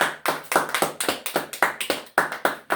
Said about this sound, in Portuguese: Dê uma linda salva de palmas ao nome do Senhor Jesus Cristo.